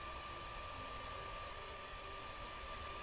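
A hair dryer in the video game I Am Bread gives off a steady, even whooshing blow with a faint tonal whine, constant and fairly quiet with no break.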